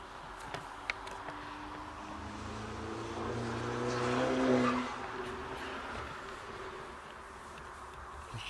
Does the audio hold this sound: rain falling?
no